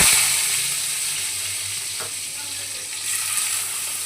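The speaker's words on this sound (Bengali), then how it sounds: "এবার ওই তেলের মধ্যে একেবারে বাদামগুলোকে আমি একটু ভেজে নেব।" Peanuts frying in hot oil for a home-cooked offering, a steady close sizzle with a soft stir or clink partway through, heard alone without talk.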